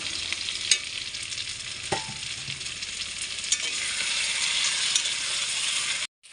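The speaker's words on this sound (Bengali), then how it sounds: "দেখো মাটন কষানি কেমন কষানি হচ্ছে, দেখো মশলাটা প্রায় কষা হয়ে গেছে" Mutton curry with spices, fried potatoes and slit green chillies being stirred and fried in a pot, a loud steady sizzle broken by periodic spoon scrapes and clinks, cutting off abruptly at the end.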